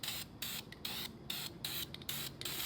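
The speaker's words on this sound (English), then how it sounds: "So let's go spray this down real quick." An aerosol can of VHT flame-proof ceramic coating sprays in close, hissing bursts, about eight short blasts separated by brief pauses, with no talking.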